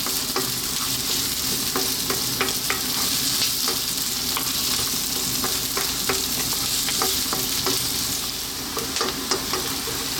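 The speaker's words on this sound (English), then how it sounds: "I'm using a red onion chopped. About 4 to 5 minutes. We're on a fairly high heat. Keep it moving." Chopped red onion frying over high heat, a loud continuous sizzle broken by frequent spatula scrapes and taps as it is kept moving, close and without talk.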